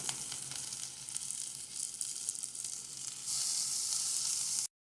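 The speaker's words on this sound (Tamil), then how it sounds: "இப்போ நான் வந்து திருவி வச்ச பீட்ரூட்டை இதில் போட்டு நல்லா வதக்கிக்கிறேன்" Grated beetroot sautés in a pan with onion, garlic and green chilli for a beetroot poriyal, a soft, steady sizzle that turns brighter and louder near the end before cutting off abruptly.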